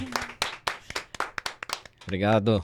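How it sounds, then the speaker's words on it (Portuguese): A short round of scattered clapping from a small audience mixes with a speaking voice, ending in a brief cheerful exclamation. "Uma salva de palmas."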